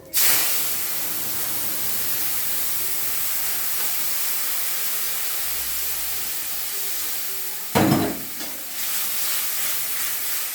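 Black cumin seeds and a turmeric, cumin and coriander spice paste sizzle and hiss steadily in hot oil in a pan, a continuous close frying sound with a brief louder burst of spattering partway through, no talking.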